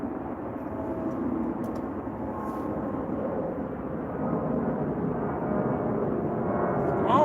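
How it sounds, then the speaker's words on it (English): A fixed-wing airplane passing over a catfishing spot, a low distant rumbling drone that slowly swells in loudness toward the end, steady and unbroken. "Here comes an airplane."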